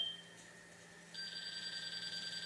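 A Spectra Precision LL100 laser level receiver sounds a steady electronic beep tone, briefly changing then holding a continuous high-pitched beeping, close and fairly quiet, with no voices.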